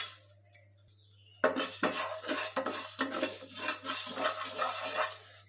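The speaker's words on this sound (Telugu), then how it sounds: "పెనం హీట్ అయిన తర్వాత కొన్ని మెంతులు వేసుకోవాలి" Fenugreek seeds tossed onto a heated griddle pan: after a quiet start, a burst of dry rattling and scraping begins, with rhythmic metallic stirring strokes repeating closely until the end.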